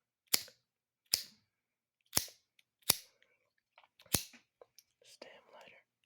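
A stamp lighter struck several times, each click a sharp, loud crack like a gunshot, spaced about a second apart, followed by softer rustling and faint handling noises near the end.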